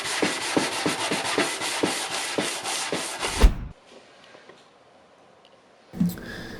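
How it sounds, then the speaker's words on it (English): A 220 grit sanding sponge rubs back and forth over a wooden drawer front in quick rhythmic strokes, close and steady, then stops, leaving quiet room noise before a brief knock. "On the front of the drawer, I'm just using a 220 grit sanding sponge"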